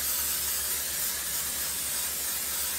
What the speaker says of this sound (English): I'm going to take any kind of cooking spray.